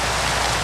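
Rain in the Minecraft Sky Factory video game falls as a dense, steady hiss that fills the scene without a break and fades out briefly at the very end.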